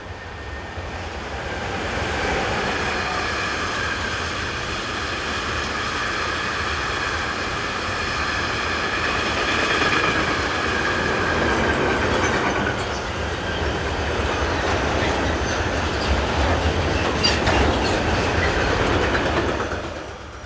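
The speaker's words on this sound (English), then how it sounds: "Fairly rare power for this line is this DB Cargo Class 185" A DB Cargo Class 185 electric locomotive hauls a freight train along the Olten to Oensingen main line in Switzerland, a loud, continuous rumble with wagons clattering and faint wheel squeal throughout.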